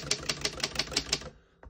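Rapid typing on a 1935 Underwood 11 desktop typewriter: seven sharp, evenly spaced key strikes close to the microphone, followed by a short pause and one fainter mechanical click.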